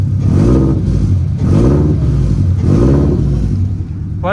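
A Toyota GT86 Rocket Bunny with a Tomei titanium exhaust revs hard three times in quick succession, each loud, close blip rising and falling, then settling toward idle.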